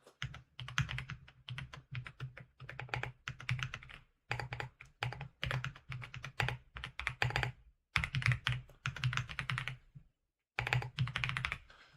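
Rapid typing on a computer keyboard at a desk, close and crisp, with bursts of clattering keystrokes broken by short pauses and no talking.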